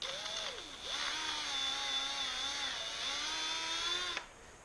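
A power drill whirs with a rising and falling motor whine for about four seconds while a bit is fitted, during a supercharged Trans Am engine build with crankshaft installation; it runs steadily and close, then cuts off abruptly.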